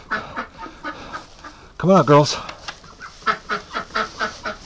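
Free-range ducks quack in a farmyard in a quick series of loud calls, with a person speaking to them nearby.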